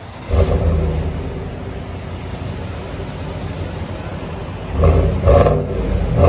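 A 2020 GMC Sierra AT4 with a 6.2L V8 and Borla Touring dual exhaust, two deep throaty revs near the start and end over a low idle rumble, recorded close with no speech.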